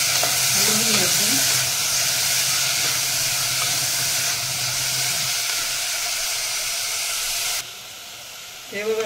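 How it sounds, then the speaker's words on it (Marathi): Cauliflower florets and peas sizzle in hot oil in a pan for a vegetable pulao, a steady loud frying hiss with occasional stirring scrapes, which drops slightly near the end. "मी आता हे फ्लावर आणि वाटाणा तेलामध्ये चांगलं परतून घेते।"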